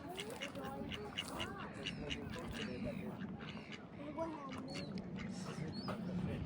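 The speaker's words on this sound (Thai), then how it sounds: "เป็ดน้อยว่ายน้ำสนุกสนาน" Ducklings swim and quack in outdoor water, their soft repeated calls scattered through the scene over a steady background with voices nearby.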